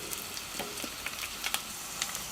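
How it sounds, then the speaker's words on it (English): Potatoes sear in melted butter in a pan, giving a steady bright sizzle with scattered small pops and crackles throughout, fairly close, with no talking. "we're going to add the potatoes, spread them nicely apart, make sure they get a nice sear from all sides"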